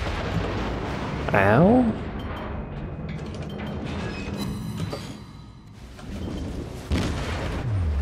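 A warship detonation in World of Warships, deep rumbling booms and blasts layered over constant battle noise, loud and near, with a man's brief pained groan over it.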